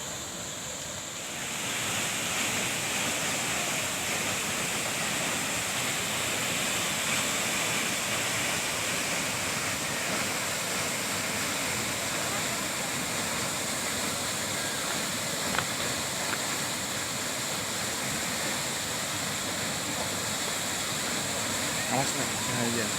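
Kedung Kayang waterfall roars in a steady, loud broadband rush of falling water that stays constant throughout, with no clear talk rising above it.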